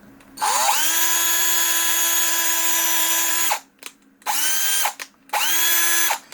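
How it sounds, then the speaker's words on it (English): A low-speed power drill bores a hole through the plastic gate of a Hayabusa arcade stick on a Hori RAP 4, whining steadily for about three seconds, then two shorter bursts, loud and close with no talk. "That means you're already drilling it."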